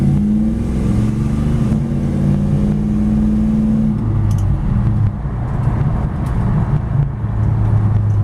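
A 1957 Chevy 210 with an LS1 V8 taking off, its engine rumbling loud and close with a steady low growl, the pitch shifting as it pulls away.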